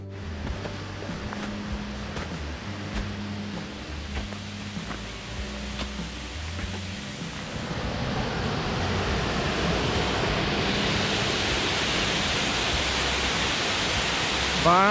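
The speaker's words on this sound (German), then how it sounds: "Gollinger Wasserfall" The Gollinger Waterfall near Berchtesgaden rushes as a broad, constant roar that swells louder partway through, as if drawing closer, with a musical tone faintly audible early on.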